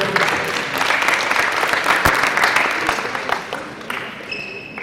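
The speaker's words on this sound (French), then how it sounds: "Donc Monsieur Laurence, vous pouvez l'applaudir." An audience claps for a coach at a technical session, dense sustained applause from a room full of people that gradually thins out near the end.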